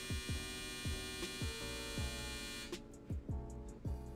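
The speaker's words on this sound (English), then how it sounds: "That's the dryer, by the way, if you can hear that." A clothes dryer runs with a steady electrical hum and a repeating low thump roughly every half second as the drum turns, quiet and constant.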